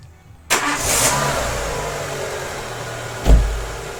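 A petrol car engine cranks and catches almost instantly when started with a Popdeer PD-J02 3000A jump starter, then settles into a steady idle with a second brief rev-like surge near the end, no talking.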